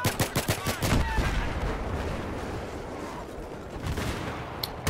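A rapid burst of pistol shots rings out in Battlefield 3, about six sharp cracks in quick succession, followed by a dense wash of distant battlefield gunfire and explosions and a final faint shot.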